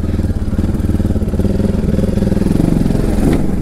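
A Bajaj Pulsar RS200 motorcycle engine runs loud and close with a steady, throbbing mid-range drone as it rides off, without a break.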